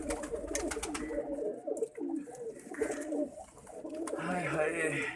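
Pigeons coo softly and repeatedly close by, with low throaty calls layered over outdoor ambience and faint background voices.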